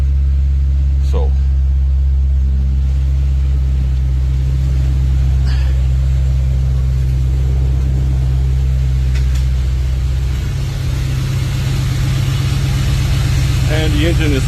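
Mercury Cougar XR7 V8 engine running after a cold start, a steady low idle rumble with a faint rise toward the end, close and continuous, with a voice talking over it.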